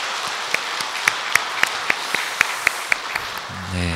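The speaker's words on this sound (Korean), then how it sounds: "큰 박수로 한번 영광 올리겠습니다." Applause from a church congregation during a Sunday service, sounding as a steady wash of many hands clapping with a few sharper, louder claps standing out at a regular pulse, ending as a voice begins.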